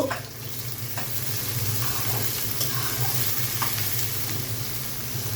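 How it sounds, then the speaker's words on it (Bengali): Sliced onions fry in hot oil in a pan, a steady close sizzle with a few faint stirring scrapes, for mutton and liver chana dal. "পেঁয়াজটাকে আমি প্রথমে ভেজে নিব।"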